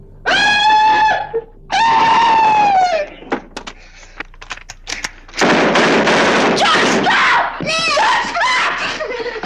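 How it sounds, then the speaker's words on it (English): Loud, close screams in a crime film: two long, shrill cries at the start, a burst of sharp cracks and clatter, then a sustained frantic wail and further screaming. "Someone was screaming."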